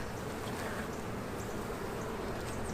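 Honey bees buzz steadily around an opened hive frame heavy with honey, a continuous close, even drone with no voices over it.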